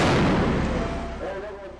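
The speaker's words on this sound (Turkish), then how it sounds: "Bomba uzmanı ekipler caddeye bırakılan sahipsiz çantayı fünyeyle patlattı." A bomb squad sets off an abandoned suspicious bag on a city street with a detonator, a loud broadband blast right at the start that rumbles and decays over a couple of seconds amid street noise.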